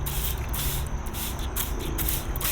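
Homemade mildew remover sprayed from a spray bottle onto zucchini plants, several quick hissing bursts in close succession, close and fairly quiet.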